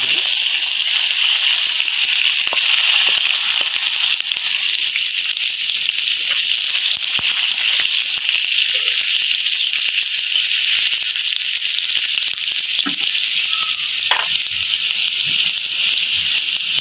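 Chopped onion with five-spice seeds frying in hot oil in a pan, a steady, loud sizzle and hiss throughout with occasional faint pops and clinks.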